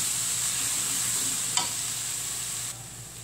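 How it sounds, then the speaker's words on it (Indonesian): Lemongrass, kaffir lime leaves and bay leaves sauté with spice paste in a pan for a spicy-sour black squid dish. A close, even sizzle runs throughout, with one sharp click midway before the hiss softens slightly. "Tumis ya."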